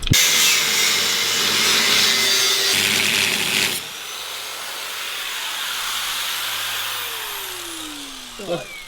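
Power tool cutting out a section of material during a BMW E30 M3 suspension install, a loud, harsh grinding cut that stops abruptly partway through, then a quieter hiss and a faint final clunk.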